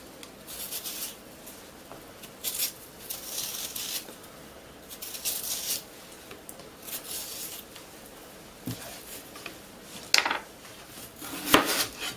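A knife roughly chopping potatoes, skin on, on a board for an old-style mash: sparse, quiet taps and scraping across the clip, with a few sharper knocks near the end.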